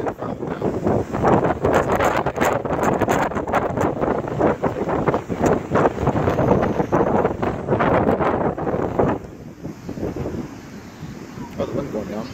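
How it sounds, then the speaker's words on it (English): Hurricane Joaquin's wind roars hard at Buckroe Beach in Virginia, buffeting the microphone with loud, gusting rumble and surf noise, then easing slightly toward the end. "Oh, the wind's going down."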